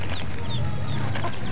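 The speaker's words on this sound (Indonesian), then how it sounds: "Ini anak ayam, induk ayam cari makan sini ya." A mother hen and her chicks cluck and peep while foraging near scattered plastic bags, the short chirps and soft clucks coming close over a low background rumble.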